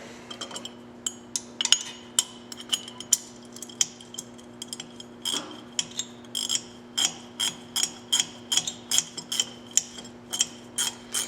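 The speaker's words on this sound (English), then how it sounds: "A wrench I like to use on a lot of stuff is called a ratcheting wrench." A ratcheting wrench clicks in rapid, even runs while fitting a cheese wedge part. The sharp metallic ticks come close and clear over a faint steady hum and speed up toward the end.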